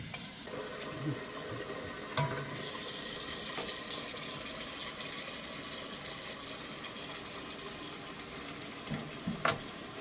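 A steady stream of water pours and splashes into a cooking pot, continuous and moderately faint, with a few soft knocks.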